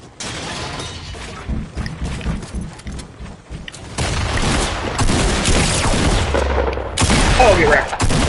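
Fortnite gunfire in repeated bursts of loud cracks with shattering, crunching impacts among them, a sustained exchange of shots that grows louder toward the end, with a voice speaking faintly beneath the shooting.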